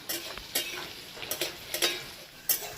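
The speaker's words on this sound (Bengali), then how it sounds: "রসুনগুলো ভালো করে ভাজা হয়ে গেছে" Garlic frying slowly in a pan with potatoes and green chili, a soft steady sizzle broken by several sharp scrapes and clinks of a spatula stirring, close and moderately quiet.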